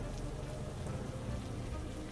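Soft, steady patter of rain falling on a surface, faint and continuous with no voices over it.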